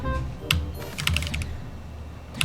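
Computer keyboard keys clatter in quick bursts of clicks during a wave-steering platform game, with a few separate clusters of presses, close and moderately loud, with no talking.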